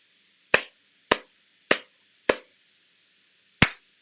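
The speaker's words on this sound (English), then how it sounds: "Listen when I clap." Five sharp hand claps ring out close and loud: four come at an even, quick pace and a fifth follows after a pause, with silence between them.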